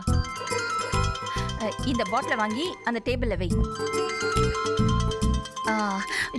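A mobile phone rings with a melodic ringtone in a Tamil TV serial scene, repeating tones that carry throughout beneath people talking over it.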